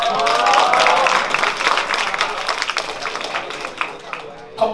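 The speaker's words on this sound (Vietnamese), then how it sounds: "Một tràng pháo tay cho cái ý tưởng có được không ạ?" An audience at a casual weekend product-launch party applauds, with a burst of many hands clapping that fades gradually, while a voice talks over the start.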